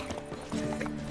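Hooves of Roach, Geralt's horse in The Witcher 3, clip-clopping in a steady run of close, crisp game-audio hoofbeats over a low ambient bed, with no talk.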